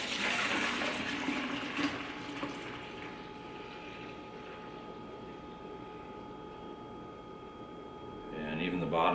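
Beer wort for a one-gallon Chinook IPA pours out of a brewing pot, a close, continuous splashing rush of liquid that tapers slightly, with a brief clatter near the end.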